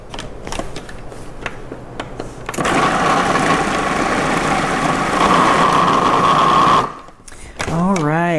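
A food processor purees a plant-based pâté spread, whirring steadily and loudly for about four seconds with a strong motor whine before cutting off abruptly. A few soft clicks come before it, and a brief warbling tone follows.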